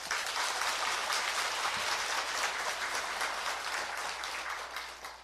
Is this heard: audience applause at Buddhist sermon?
yes